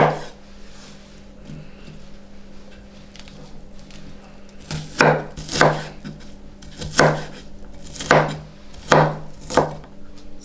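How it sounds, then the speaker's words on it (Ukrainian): A knife chops an onion into cubes on a cutting board: quiet at first, then a run of about nine sharp, evenly spaced strikes, close and clear, with no talking. "Нарізаю кубиком цибулю."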